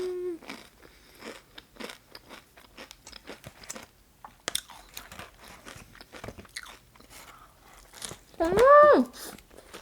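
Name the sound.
chewing crunchy potato chips with burger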